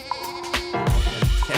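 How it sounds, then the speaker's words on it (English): A goat bleats in short, nasal cries, a couple of quick bleats up close over a brief faint background, with no talking. "Who's sacrificing a goat?"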